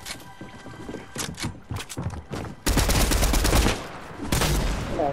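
Video game gunfire in dense, loud bursts of rapid shots, heaviest in two sustained volleys toward the end, with shorter scattered shots before them.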